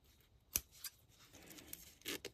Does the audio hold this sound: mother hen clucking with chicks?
no